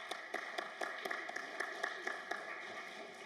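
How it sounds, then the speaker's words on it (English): Audience applauding panelists at a stakeholder session on Article 6.4, with a steady patter of many hands clapping at moderate level, fairly distant and even throughout. "give a warm round of applause to all of our panelists"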